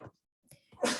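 One short sneeze bursts out near the end, preceded by a small intake of breath, moderately close in an otherwise quiet indoor room.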